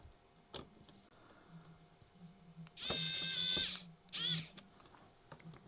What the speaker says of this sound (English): let's go ahead and get our screws back in here.